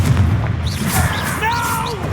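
A Confringo blasting spell exploding in Hogwarts Legacy: a deep, muffled boom and thumps amid ongoing combat noise, with some brief whooshing effects layered above.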